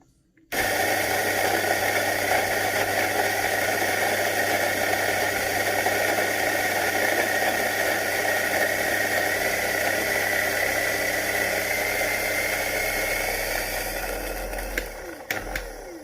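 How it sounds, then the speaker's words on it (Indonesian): Coffee beans being ground on a fine setting, a loud steady whirring drone that starts abruptly and runs continuously before winding down with a few clicks at the end. "Lalu gilingannya saya set di 2."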